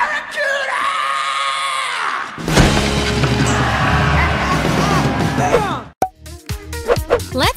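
A bass guitar is smashed in a scene from Trolls Band Together: a sharp crash and clatter with a strained cry, sustained chaotic noise, then a final hard impact and scattered knocks.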